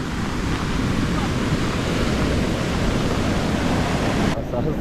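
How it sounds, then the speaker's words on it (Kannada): Strong wind roars at a crowded seaside temple fair in Bhatkal beside a rough sea, a loud, unbroken rushing buffet across the microphone that drops away only at the very end. "ಇಲ್ಲಿ ಒಂದು ಕಡೆ ಆ ಗಾಳಿ ಸೌಂಡ್ ಜೋರಾಗಿ ಬರ್ತಾ ಇದೆ"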